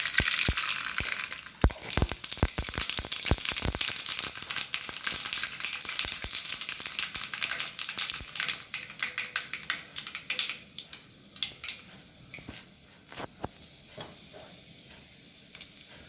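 Mustard seeds sizzling and popping in hot coconut oil for thair curry, dense crackling bursts that start loud and thin out into a steady softer hiss, with no talking.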